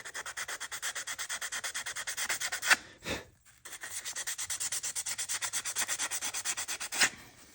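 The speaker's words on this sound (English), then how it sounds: "Don't use any kind of file, just use some sandpaper. 100 grit sandpaper works good for anything." 100 grit sandpaper rubbed back and forth on a metal part of a Moster 185 engine, a steady close rhythmic scratching of quick even strokes, briefly interrupted by a knock, then resuming at the same pace.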